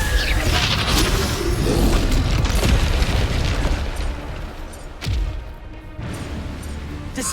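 Repeated Bombarda spell blasts in Hogwarts Legacy, a dense, continuous barrage of booming explosions and crashing impacts that stay loud and close throughout, with a few sharper bursts near the end.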